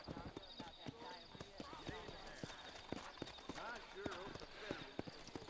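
Horse hooves clip-clop steadily at a walking pace in the Western video game Red Dead Redemption, a clear repeated rhythm of close hoofbeats under continuous spoken voices and game dialogue.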